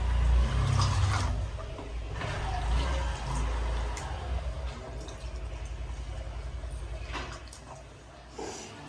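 Running water rinsing freshly cut potatoes for homemade French fries, a steady near splashing and trickling wash with no talk.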